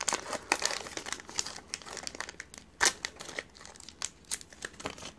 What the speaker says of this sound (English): why am I destroying all the Mew